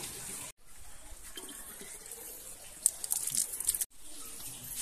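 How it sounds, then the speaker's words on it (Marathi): Water drawn with a bucket from a stone rock-cut tank at Sinhagad fort, a faint splashing and pouring under outdoor ambience, briefly broken by two abrupt silences. "असं बकेटने पाणी काढायला लागतं, स्वच्छ नितळ पाणी"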